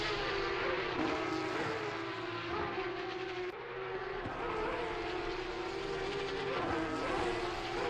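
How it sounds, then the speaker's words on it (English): Porsche Cup race cars in a sim racing game shriek down the back straight at Bathurst, a dense, continuous high-revving engine wail with rising and falling pitch sweeps as cars pass, steady and loud throughout. "this camera positioning for the best sound from these Porsche Cup cars. Absolutely shrieking their way down the back straight."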